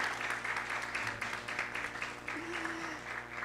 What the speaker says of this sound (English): Give her parents a round of applause.